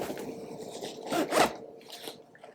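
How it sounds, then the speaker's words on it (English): A Japanese coil zipper on a suit travel bag is pulled in a few short, close raspy strokes, the louder zips bunched near the middle, followed by fainter fabric handling. "The zippers, it's a durable Japanese coil"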